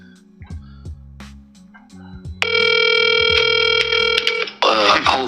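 A telephone call connecting: a steady dial tone holds for about two seconds, then gives way to a short burst of ringing, with a few clicks and faint background sounds before it.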